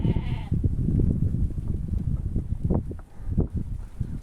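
Sheep in a flock in a Kazakh village bleat nearby, with one clear bleat at the start amid a dense rustle of shuffling animals and hooves.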